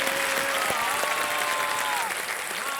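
Studio audience applauding a contestant on a televised Hindi quiz show, sustained clapping throughout with a faint musical tone ringing underneath.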